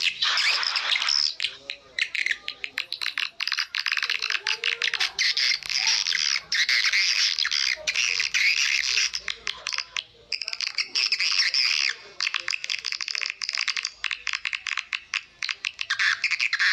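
A recorded swiftlet lure call of the Kelambu Hitam type plays as a dense, continuous stream of loud, rapid high-pitched chirps and squawks, with brief gaps and a faint low background.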